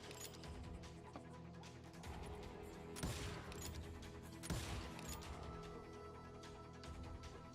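Gunfire in the Western shooter Call of Juarez: Gunslinger: a few sharp shots stand out over a dense, clattering background of smaller cracks and bangs, all fairly quiet and distant.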